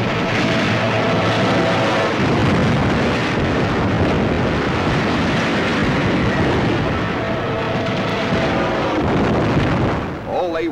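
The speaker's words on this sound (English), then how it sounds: "Being attacked by Japanese torpedo planes skimming in after us, wing to water." Japanese torpedo planes attack a ship at sea in World War II footage, a dense, continuous roar of aircraft engines mixed with explosions and gunfire that stays loud for the whole stretch.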